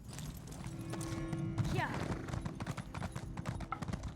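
Horse hooves clip-clopping at a steady trot in The Elder Scrolls Online, rhythmic and fairly near, with someone speaking over them.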